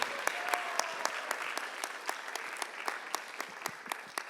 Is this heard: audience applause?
yes